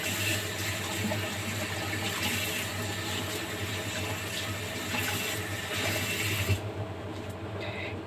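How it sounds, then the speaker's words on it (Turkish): Water runs steadily from a tap onto a sponge being wetted before a cleaning task, a continuous broadband hiss with slight gurgling that cuts off near the end. "süngerimizi ıslatıp başlayacağız"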